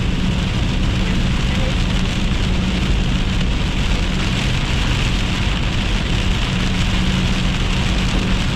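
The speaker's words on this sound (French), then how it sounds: "C'est des gros déluge." Heavy thunderstorm downpour in Quebec, a dense, steady roar of rain hammering a surface at close range, unbroken and loud from start to finish.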